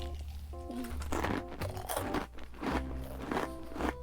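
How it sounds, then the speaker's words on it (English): Close, loud crunching and biting from a big mouthful of rice cracker snack mix with cheese wheels, paprika squares and crunchy pops, steady chewing for several seconds with no talking. "10 rice crackers in your mouth is a bit much"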